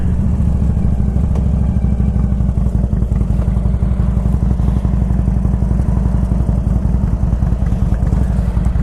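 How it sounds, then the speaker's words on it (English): Harley-Davidson Ultra Classic motorcycle with 72,778 miles on the odometer, heard while riding: a steady, loud low engine rumble with rapid even pulsing and continuous wind noise throughout, no talking. "this bike runs and feels amazing"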